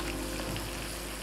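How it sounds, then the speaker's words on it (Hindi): Onions going in to golden-fry in a hot pan for dum aloo on a cooking show, giving a steady, close sizzle that stays level and unbroken throughout. "यहाँ पे हमने डाल देना है प्याज, प्याज को गोल्डन फ्राई करेंगे।"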